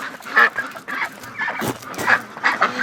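Ducks in a pen giving loud, repeated nasal honking quacks, several birds calling close by in an irregular, overlapping chorus.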